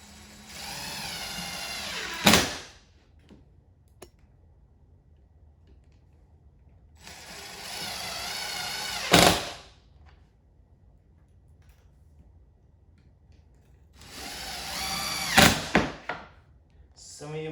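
Self-tapping screws are driven into a tool-free Outdoor Essential raised garden bed, with three separate bursts of a whirring drill. Each burst builds and ends in a sharp clack, and quiet gaps fall between them.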